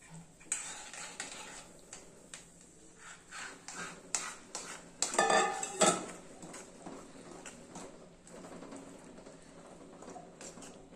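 Flour being stirred in a pan for sweet laddu balls, giving scattered scraping and clinking of a spoon against metal, busiest in a dense burst around the middle, with no talking.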